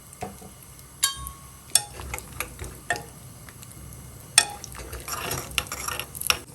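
Cashews and raisins frying in a pan over medium heat, a soft steady sizzle broken by sharp spoon clicks and scraping taps as they are stirred.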